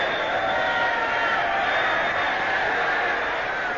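A boxing crowd in a radio fight broadcast roars steadily through a narrow, muffled old-radio sound, a dense sustained cheer with no pauses.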